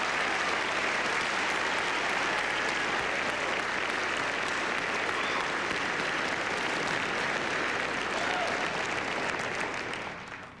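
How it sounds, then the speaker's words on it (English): Sustained, dense applause fills a large banquet hall at the 1999 NASCAR Winston Cup awards, holding steady for about ten seconds before tapering off at the end. "Let's have a round of applause for the number 88 Quality Care Ford Credit Ford Taurus team."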